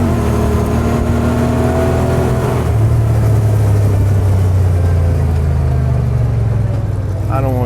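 Truck driving to throw mud off its tires: a loud, close engine revs and holds a steady droning pitch as the vehicle drives, with a voice heard briefly.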